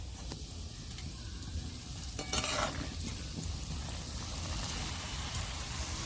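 Egg devil cutlets frying in oil over low heat, a dense continuous sizzle close by with a brief burst of stirring or turning near the middle, no voices.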